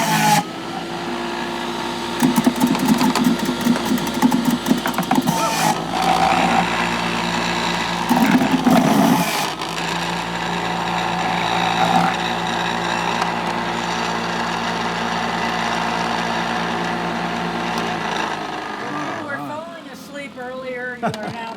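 A machine that extracts starch from potatoes runs loudly and steadily, a continuous mechanical drone with a few surges and clunks before it winds down near the end, while people talk over it.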